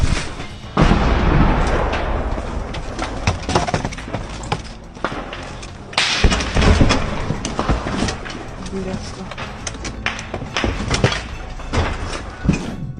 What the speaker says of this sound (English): With explosions and gunfire in the background, the sniper continued to advance in that destroyed house.